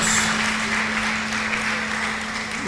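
Church congregation giving a welcoming round of applause to guests during a service, a steady, dense wash of clapping at moderate level with a faint electrical hum beneath.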